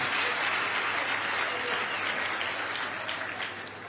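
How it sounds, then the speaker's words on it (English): Sustained applause from an audience at the Eastern Cape State of the Province Address for the Premier, a dense steady clapping that fills the hall throughout and tapers slightly toward the end. "applause."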